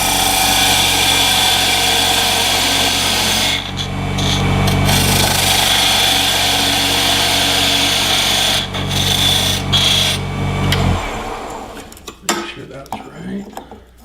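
A woodturning lathe spins a pepper mill base while a tool cuts its tenon, giving a steady low motor hum with scraping and chattering bursts, before the machine winds down and stops near the end, leaving a few clinks.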